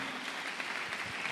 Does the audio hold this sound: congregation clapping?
yes